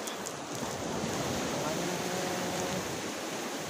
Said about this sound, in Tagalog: Aming dagat.